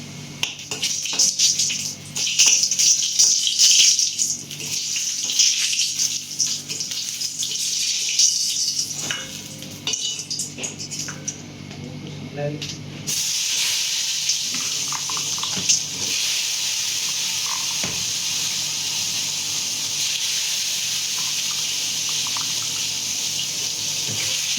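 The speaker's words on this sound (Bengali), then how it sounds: "এই যে কড়াইটা গরম হয়ে গেছে, শুকনো লঙ্কাটা ভেজে নিই" Dried red chillies frying in a hot kadai (wok) in a Bengali home kitchen, a steady close sizzle and hiss with scattered crackles and pops, running loud and continuous with no talk.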